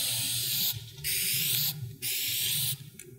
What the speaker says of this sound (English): I'm gonna actually go ahead and spray paint the car.